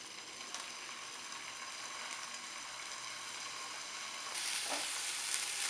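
A beef medallion sears in a frying pan with a continuous close sizzle that swells louder near the end, along with a faint scrape or two and no voices.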